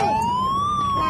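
A Tonka toy police car siren wails loud and close, a steady rising electronic tone with strong harmonics that holds without pause and has no voices over it.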